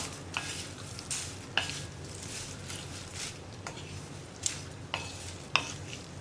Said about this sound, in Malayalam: നമ്മൾ പൊടിച്ചു വെച്ച പപ്പടം ചേർക്കാം ഇതെല്ലാം ചേർത്ത് മിക്സ് ചെയ്യുക